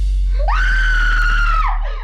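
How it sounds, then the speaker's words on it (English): A woman lets out a long, loud, sustained horror-film scream from a slasher movie, rising sharply, holding a steady piercing pitch for over a second, then breaking off into a shaky trailing cry. "she's got that Scream Queen scream"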